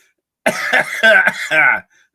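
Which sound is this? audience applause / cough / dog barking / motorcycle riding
cough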